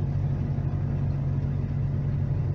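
A truck's engine idles steadily and close by, a low, even rumble with no speech, just before the vehicle is weighed.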